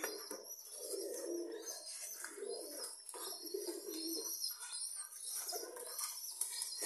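Domestic pigeons coo in a winter loft, soft repeated throaty calls in rhythmic bursts with a few faint chirps, fairly quiet and near, with no talking.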